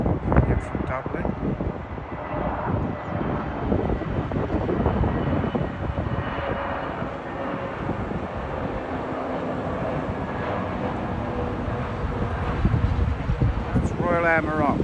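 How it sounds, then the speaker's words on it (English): An Aer Lingus Airbus A320neo arriving from Dublin at Heathrow, a steady broadband engine roar throughout, moderately loud, with a voice speaking over it. "Aer Lingus, the A320 Neo, coming in from Dublin."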